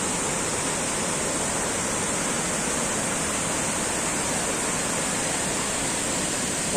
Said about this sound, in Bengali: প্রচুর সুন্দর যে ভরপুর ঝর্ণাটি আজকে অসাধারণভাবে সেজে আছে মায়াবী ঝর্ণা